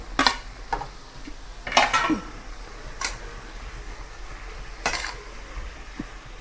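Potato and fenugreek leaves are stirred with chilli, turmeric and salt in a pan for aloo methi, giving several sharp metal-on-pan scrapes and clinks at irregular intervals, close and moderately loud, with no talking.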